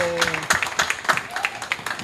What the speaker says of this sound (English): everybody please give a round of applause for her